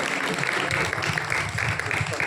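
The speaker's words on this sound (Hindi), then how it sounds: "ताली बजाओ जोर से और गुड़िया के लिए" Audience clapping at a village spiritual gathering in Chidodi, a dense continuous patter of many hands that holds steady for the whole moment with some voices mixed underneath.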